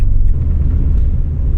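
A Renault Clio Sport 182 with a high-revving 2-litre engine gives a loud, close, steady low rumble, heard on its own without talk.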